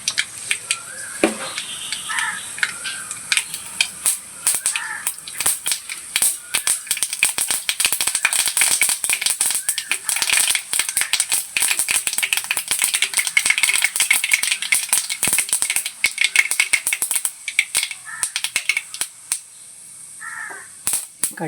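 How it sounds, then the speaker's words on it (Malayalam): Mustard seeds pop in hot coconut oil with dense, rapid crackling bursts up close, a sustained spattering rattle that continues for about twenty seconds before thinning out near the end. "കടുക് പൊട്ടി വരട്ടെ"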